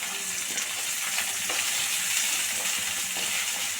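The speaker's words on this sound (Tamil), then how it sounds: "கடுகு உளுந்தம்பருப்பு சீரகம் எல்லாம் நல்லா பொரிஞ்சிருச்சு" Mustard seeds, urad dal and cumin spluttering in hot oil in a pan, a dense, continuous crackling sizzle with scattered pops, close and steady throughout, no talking.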